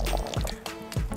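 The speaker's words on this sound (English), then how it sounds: "And keep simmering away till you're happy what you see." Chicken sauce simmering in a pot, giving thick wet bubbling with a few distinct glugs and pops, heard close and fairly loud with no talking.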